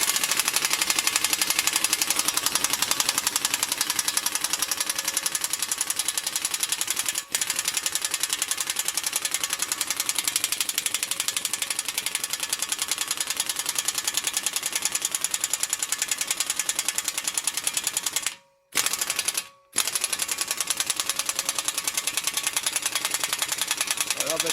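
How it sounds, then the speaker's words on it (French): A pneumatic impact wrench loosens the driveshaft nuts on a 2006 Audi A3 Sportback during a clutch replacement, hammering in a rapid, continuous rattle for about eighteen seconds before two brief pauses, with a voice talking intermittently. "je vais desserrer les écrous de cardan"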